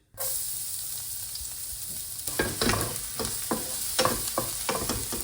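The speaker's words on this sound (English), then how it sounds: "Heat the pan and use the olive oil." Cumin seeds frying in olive oil in a hot pan give a steady, close sizzle, with several scraping stirs clattering through the second half.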